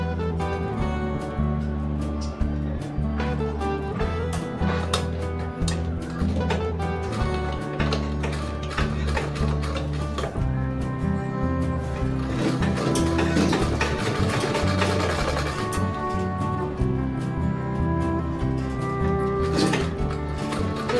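A sewing machine runs continuously while stitching the collar of a ladies' shirt, a loud steady mechanical whir and clatter throughout.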